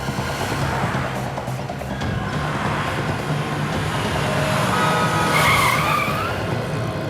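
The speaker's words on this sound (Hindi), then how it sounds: "तेरे पास अभी एक टैक्सी आने वाली है" A taxi pulls up on a street with a long, loud rush of engine and road noise, ending in a sharp tire squeal as it skids to a stop close by.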